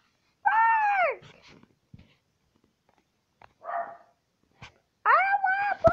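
A human voice imitates a dog, giving two loud, drawn-out barking howls with a few quieter clicks and mutters in the gap between them.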